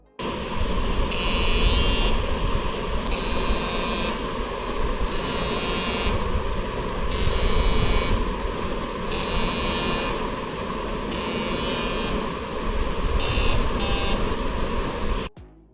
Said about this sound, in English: the sound which is being produced by vibration motor